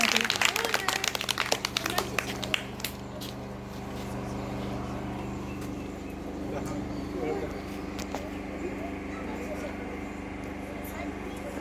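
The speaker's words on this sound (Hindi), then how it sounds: "जोरदार तालियां होनी चाहिए" Applause at a primary school event as a child receives a T-shirt, a burst of clapping for the first few seconds that fades, followed by ambient noise and people talking.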